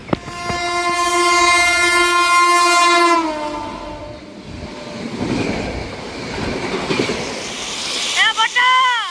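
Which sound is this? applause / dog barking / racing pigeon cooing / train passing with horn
train passing with horn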